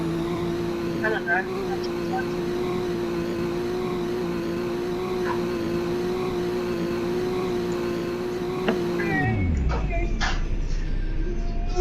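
A BMW M4 in the Greenville driving game holds a steady, loud engine drone before the revs drop sharply near the end, with a person talking briefly over it.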